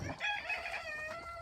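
A brief, faint rooster crow among chickens, a single drawn-out call standing alone at a distance.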